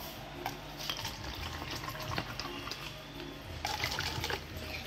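Water pours and splashes into a cup in a home kitchen at night, a steady trickling stream with small bursts, close by and with no voices.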